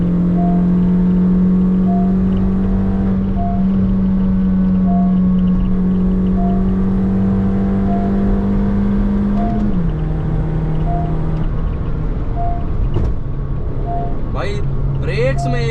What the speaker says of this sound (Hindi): अभी हम 4th गियर में और मैंने फुल पंजा दे रखा है